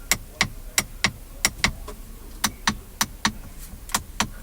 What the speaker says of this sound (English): When was the last time you heard such a satisfying click come from a car's climate control buttons?